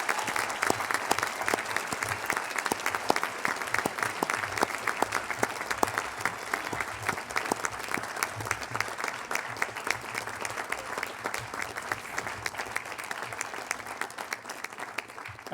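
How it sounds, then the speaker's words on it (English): Warm, sustained applause from a school audience at an academy prize day honoring outstanding students, dense steady clapping filling the room without pause from start to finish. "Let us give these outstanding students a warm round of applause for their achievements."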